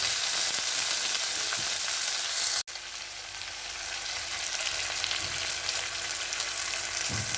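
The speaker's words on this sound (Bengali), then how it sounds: "হালকা জল দেবো তেলেতে।" Loud, steady sizzle of hot oil as a little water is splashed into the pan for a vegetarian banana-flower dish, with a brief cut partway through before the frying hiss carries on continuously.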